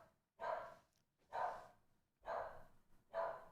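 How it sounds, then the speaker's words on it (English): A dog barks four times in a slow, even rhythm, each bark loud and close with brief silences between, and no other sounds. "But my dog is going crazy right now, guys."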